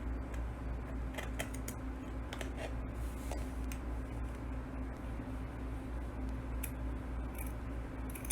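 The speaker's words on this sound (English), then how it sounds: "Now we're going to go ahead and cut along that 2-inch line up and across into a square." Scissors cut along a line through paper for a square in an arts and crafts project, faint repeated clicking snips over a constant low hum and background noise.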